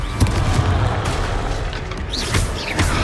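Confringo spell explosions in the video game Hogwarts Legacy. Loud booming blasts and crackling bursts stack over a dense rumbling game soundscape, with a brief whooshing magical swirl near the end.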